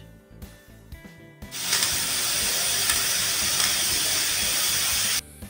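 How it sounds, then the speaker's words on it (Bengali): A pressure cooker on a gas stove lets out a loud, continuous hissing whistle of steam lasting about three and a half seconds, starting abruptly after a few quiet kitchen clicks and stopping sharply. "একটা সিটি মেরে আমি গ্যাসের ফ্লেম বন্ধ করে দিলাম।"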